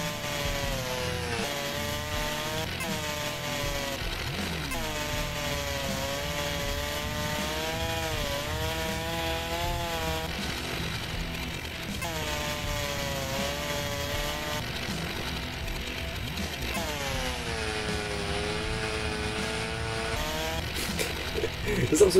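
A chainsaw in a PlayStation 4 forestry simulator game cuts through a tree, its engine droning steadily and rising and falling in pitch throughout, with people talking over it.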